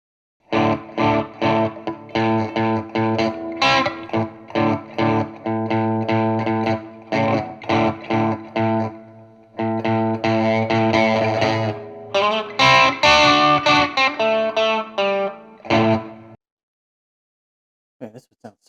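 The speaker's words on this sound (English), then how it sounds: "for lead, I'm using the distortion pedal as well just to double check" Distorted electric guitar lead playing a loud, sustained melodic line with dense, gritty harmonics, pausing briefly near the middle, then a final held phrase before cutting to near silence with a few faint taps at the end.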